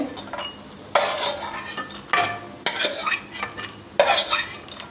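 Vermicelli fries in a kadai, a gentle sizzle punctuated by four or five sharp scraping stirs of a metal spatula against the pan, close up and without talk.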